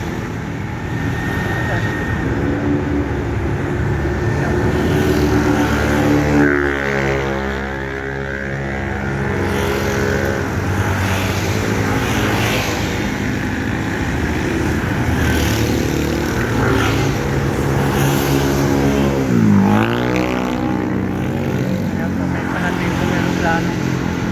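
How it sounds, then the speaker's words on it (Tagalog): A passenger airplane descends on its landing approach over Parañaque near a park, a steady broad engine roar rising and sweeping in pitch as it passes nearby, with a person talking over it throughout. "ayan, merong palanding na eroplano"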